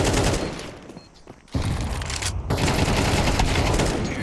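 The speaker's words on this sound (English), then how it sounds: "There's the AK from Awaken getting a kill." AK rifle gunfire in a video game match: dense bursts of rapid shots, loud and close, broken by a short lull before firing resumes heavily.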